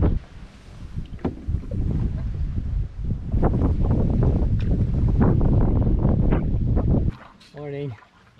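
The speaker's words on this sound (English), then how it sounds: "super windy, just letting the wind do the work" Strong wind roars steadily against the microphone for several seconds on a canoe on the River Spey, with water and boat noise underneath, then drops away as a voice briefly speaks.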